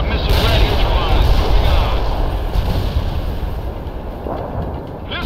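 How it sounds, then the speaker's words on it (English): Tank main guns firing in the World in Conflict Soviet Assault strategy game make a dense, loud barrage of heavy booms and rumbling blasts that roll together almost without a break. "Main guns are attacking the enemy."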